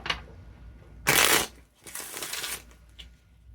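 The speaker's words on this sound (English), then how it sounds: "One more shuffle." A deck of cards shuffled by hand at close range, a soft tap followed by a loud riffling burst, a short pause and then a second longer riffle, with no talking.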